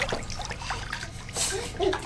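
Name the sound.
baby splashing water in a bathtub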